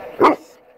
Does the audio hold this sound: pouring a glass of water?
no